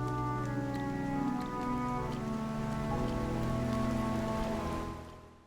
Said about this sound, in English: the perfect ambiance matched with the rain